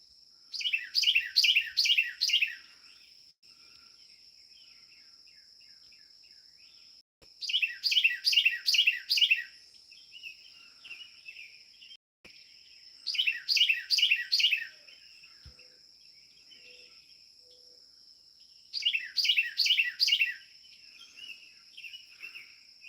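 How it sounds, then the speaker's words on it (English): A small bird sings loud, rapid chirping bursts in four repeated phrases with short pauses between, close and clear over a steady high insect-like hum. "Little bastard's loud for being little. Very tiny little loud bird."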